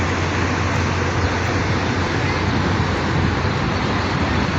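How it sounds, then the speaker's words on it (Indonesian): Steady, dense traffic roar at a bus terminal near Masjidil Haram in Mecca, a continuous broadband wash of engines and road noise with no distinct events, fairly loud and unbroken. "Nah, depan ini semua masih area terminal bus."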